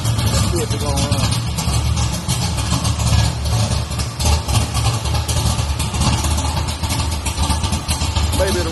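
A V8 engine fitted with an oversized 1050 CFM carburetor, flooded, cranks and then runs with a steady, loud, rough low rumble. People talk over it throughout.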